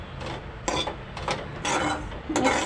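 Dry coconut and onion being stirred and roasted in a pan over low heat for a Malvani masala, with a spoon scraping and clinking against the metal in repeated short bursts, close and fairly loud.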